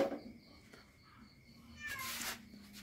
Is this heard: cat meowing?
yes